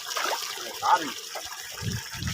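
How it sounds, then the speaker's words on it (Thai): Water flowing from a solar-powered pump makes a close gushing and splashing, with voices talking over it and a couple of heavier low splashes near the end. "ดูน้ำน้ำไหล"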